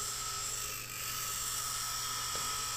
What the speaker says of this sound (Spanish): Ahí vemos como la broca se va afilando y ya casi la tenemos